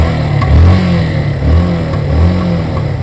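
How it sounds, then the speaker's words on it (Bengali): A Yamaha FZS V1 motorcycle with about 100,000 km on it revs close by, its exhaust rising in three or four throttle blips over a rough, steady idle. "এক্সজস্ট সাউন্ডটাও কিন্তু"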